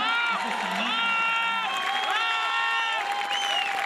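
Audience applause at a Kumar Vishwas poetry performance at an institute: a steady, dense wash of clapping from a large crowd, loud and continuous, with sustained shouting and cheering voices over it.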